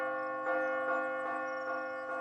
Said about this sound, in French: La cloche peut sonner au moins maintenant.